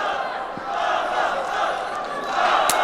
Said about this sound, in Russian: И слышим, как болельщики поддерживают Сырыма.